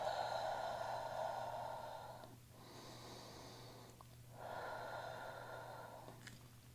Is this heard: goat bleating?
no